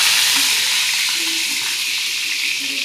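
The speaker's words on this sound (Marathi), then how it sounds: "कढीपत्ता टाकून घेते" Curry leaves frying in two ladles of hot oil on a preheated tawa, a bright, continuous hiss and sizzle with faint crackles, steady and close.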